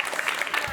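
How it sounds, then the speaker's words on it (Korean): A studio audience gives a short round of applause on a Korean youth counseling show about adolescence, a brief burst of scattered clapping heard close, with some talk mixed in. "박수 한번 주세요"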